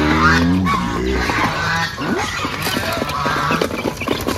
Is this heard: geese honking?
yes